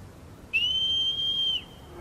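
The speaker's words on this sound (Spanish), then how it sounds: "si estamos silbando es porque está muy lejos" A single clear, high whistle from the player in the video game Shadow of the Colossus, calling a horse. It holds one steady tone for about a second against a quiet background.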